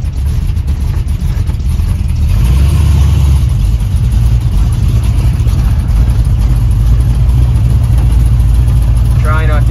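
A Chevy C10 truck engine runs in low gear, a loud, steady low rumble that rises slightly as the truck pulls away and holds a continuous drone throughout, close to the microphone.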